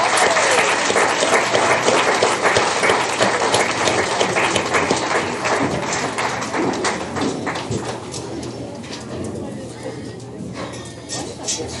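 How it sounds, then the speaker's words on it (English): Audience applause at a 4-H/FFA swine show, a broad, sustained wash of many hands clapping that fades gradually toward the end, with some crowd noise mixed in. "Let's give all these kids a big round of applause."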